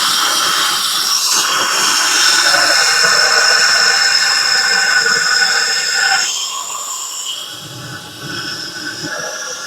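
Gas flushed through a valve as a loud, close, continuous hiss with a whistling edge. It runs for about six seconds, then drops to a quieter rush.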